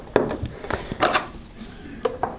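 Small metal antennas being screwed onto a U115 unit, giving light clicking and scraping taps in a few short bursts, close by and fairly quiet.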